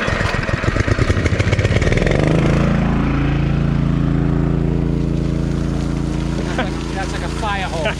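A small carbureted engine drives a water pump that blasts about 150 gallons a minute through a hose like a fire hose. A loud, steady engine drone sits close up under a broad rushing spray, and voices are heard over it.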